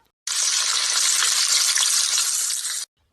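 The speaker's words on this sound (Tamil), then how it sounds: "இதில் கட் பண்ணி வச்சிருக்க பிரெட் போட்டு பொரிச்சு எடுக்கணும்" Cut bread pieces hiss and crackle loudly in a pot of hot, boiling oil, a dense continuous sizzle that starts abruptly and stops just as suddenly.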